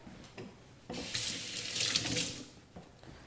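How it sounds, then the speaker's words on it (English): Hands rinsed under a running kitchen tap while making apple cider doughnuts: a couple of seconds of splashing water, close by, with brief drips and clatter before and after. "I'm going to rinse my hands real quick."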